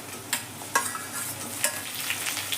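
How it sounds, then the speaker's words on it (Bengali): Chopped tomato added to onions frying in oil, a close, steady sizzle with a few sharp stirring clicks and scrapes. "পেঁয়াজটাকে আমি তেলে ভেজে নেব।"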